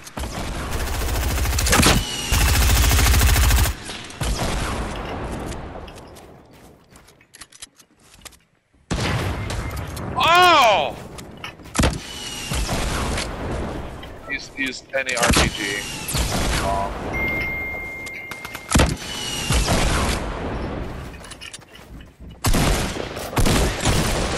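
Rapid gunfire bursts and weapon blasts in the video game Fortnite, loud and repeated through the clip, with a player talking over the shooting.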